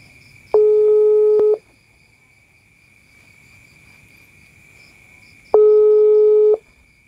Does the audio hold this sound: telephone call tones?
yes